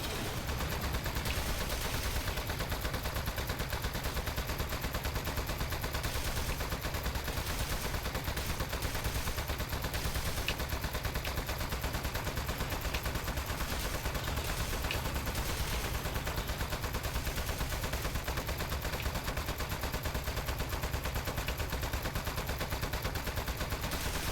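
Turrets in Aperture Desk Job fire continuous rapid gunfire in a dense, unbroken rattling stream that runs steadily through the whole stretch at moderate level, with no talk.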